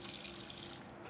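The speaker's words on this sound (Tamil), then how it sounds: "இது நல்லா ஒரு 2 டைம் கழுவிட்டு நம்ம எடுத்துக்கலாங்க" Flattened rice (aval, unpolished) being rinsed in water, giving a steady, close sloshing and trickling wash sound with no talk.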